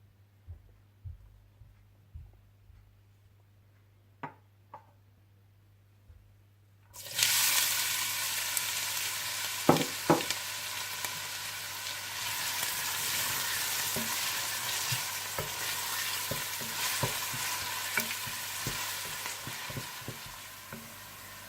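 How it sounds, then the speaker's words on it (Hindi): After a quiet start, a loud steady sizzle of onions frying in hot oil begins, with occasional stirring clinks over the continuous crackle. "आप ऑयल गर्म कर लीजिए और ऑयल में प्याज डालकर हल्के से गोल्डन ब्राउन कर लीजिए"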